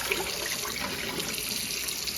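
Tap water running in a sink while oxtail is rinsed for a Cambodian pho broth: a faint, steady hissing splash of flowing water with no talking.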